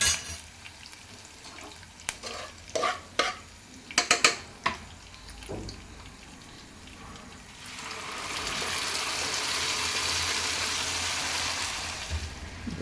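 Cooked curry goes into a finished chilli and asafoetida tempering in a pan, starting with several sharp spoon-and-pot clanks, then a soft sustained sizzle and stirring rustle building steadily toward the end.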